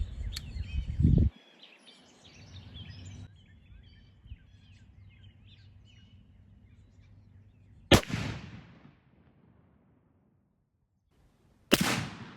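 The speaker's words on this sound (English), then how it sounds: "All right, shot has been taken." A .50 BMG rifle fires at a log about 80 yards away, two sharp, loud, broadband cracks several seconds apart, each trailing off in a short rumbling echo, against a quiet outdoor background after a brief low thump at the start.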